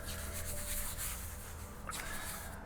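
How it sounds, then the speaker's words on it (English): A hand rubs adhesive strapping tape firmly onto a person's shoulder, making a continuous soft scuffing friction close by, with brief stronger swipes. "Again, rubbing it to make sure the glue really goes off and it adheres really well."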